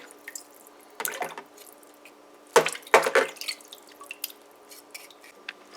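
Chicken gizzards being washed with vinegar and water: sparse drips and splashes of liquid, with a couple of brief louder sloshes midway, close by and otherwise quiet.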